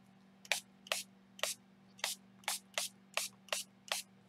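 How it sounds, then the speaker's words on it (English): Blue spray paint hissing onto shelf liner in nine short, sharp bursts at a steady rhythm, close and loud over a low constant hum. "And I'm going to spray with some blue."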